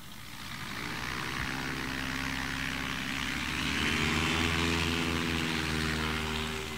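STOL propeller aircraft landing during an airshow demo at Paradise City, Sun 'n Fun, with a loud, steady engine drone that rises in pitch and intensity toward the middle and holds, no voices.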